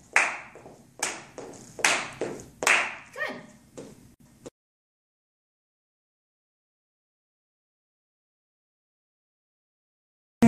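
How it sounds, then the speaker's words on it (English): Sharp hand claps from flash mob dance practice, about half a dozen close, evenly spaced smacks in a steady rhythm, then a long stretch of silence. "So 16 claps back and forth."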